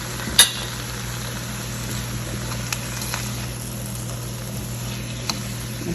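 Ketchup is stirred into chicken egg fried rice in a pan, with a sharp clank of the utensil at the start, then soft scraping and faint sizzling and a few light taps.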